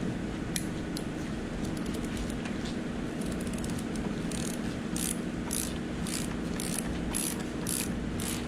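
A ratchet wrench with a heavy socket working a bolt on a Mazda Miata engine during teardown, sounding as close, rapid clicking bursts that become a regular series of ratcheting strokes over a background of garage noise.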